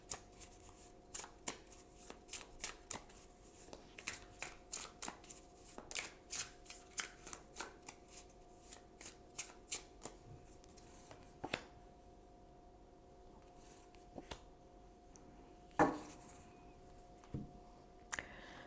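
Tarot cards being shuffled by hand, a rapid series of crisp riffling bursts in a steady rhythm, close and quiet, thinning to a few isolated slaps and taps near the end, with a faint steady hum beneath.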